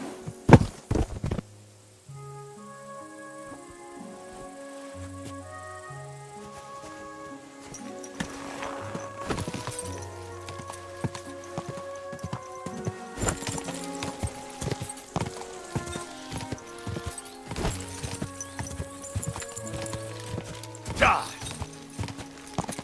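In Kingdom Come: Deliverance II, steel-shod horses clatter along in a race, with rhythmic hoofbeats, a neigh, saddle and strap sounds and a backdrop of game music.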